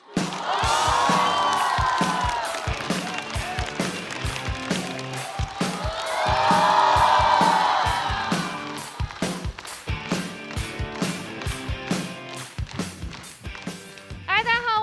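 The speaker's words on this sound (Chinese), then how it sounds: "我们掌声有请七友。" A live audience at a stand-up comedy show claps and cheers loudly, swelling in two big waves of applause and whoops as a comedian is welcomed onstage, with voices mixed in.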